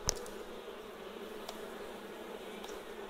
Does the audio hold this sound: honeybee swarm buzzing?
yes